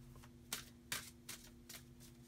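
Tarot cards shuffled by hand in several quick riffling bursts, close and fairly soft, with a steady low hum underneath and no talking.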